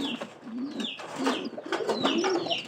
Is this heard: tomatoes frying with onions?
no